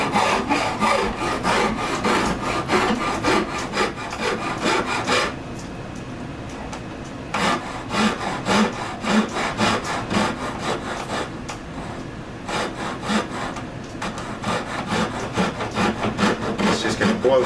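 Wood is sawn by hand in rapid rhythmic back-and-forth strokes, loud and close, with two brief pauses between bursts of rasping cuts.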